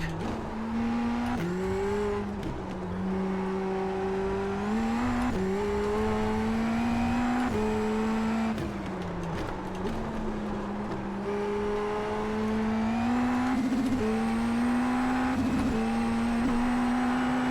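Indy NXT open-wheel race car in iRacing, its engine droning loud and close as it climbs through the revs in repeated rising pulls, dipping briefly at each upshift and then building again across a hard lap.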